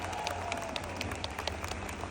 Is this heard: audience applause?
yes